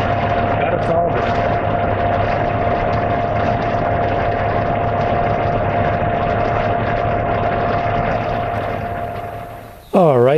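A 1990 Jeep Cherokee engine runs steadily at idle with an A/C compressor clutch problem, a constant close drone with a steady hum that cuts out sharply near the end.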